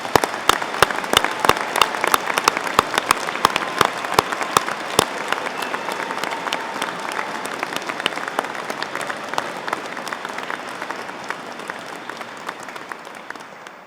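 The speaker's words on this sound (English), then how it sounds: "give you one last round of applause to congratulate you on such a" Sustained applause from a large audience at a university graduation ceremony, dense clapping that carries on steadily for the whole stretch and slowly thins toward the end.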